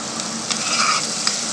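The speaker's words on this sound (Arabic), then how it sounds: "وهنبدأ ننزل الجمبري بتاعنا طبعا متقشر ومتنضف" Peeled, cleaned shrimp hitting a hot pan with minced garlic, giving a steady close sizzle and frying hiss throughout, with brief stirring scrapes and no talk.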